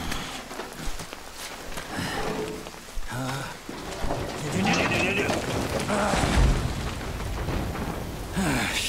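Steady rain hisses in the Death Stranding video game, with uneven splashes and surges and a low rumble, while a person talks over it throughout.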